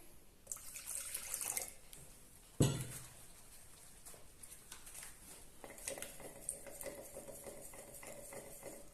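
Water trickles and splashes steadily into a jar of wool dye with purple colour, with a sharp clink partway through; close and moderately quiet, no voices.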